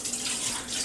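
A brief rush of water pours steadily over washed rice for plov, a bright splashing hiss at close range with no voices.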